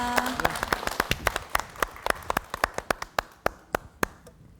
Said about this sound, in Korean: 오늘 아주 좋은 강연을 해주신 우리 김은혜 한의사님께 다시 한번 큰 박수 부탁드리겠습니다